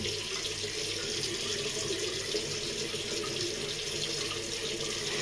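Tap water runs steadily from a faucet into a sink, a continuous close broadband splash with no pauses, as the face is wetted before a wet shave with a brush and pre-shave.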